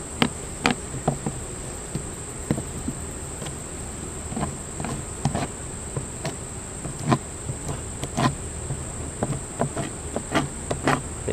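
Honeybees at a beehive make a steady high buzz close by, with scattered ticks and taps from the hive throughout.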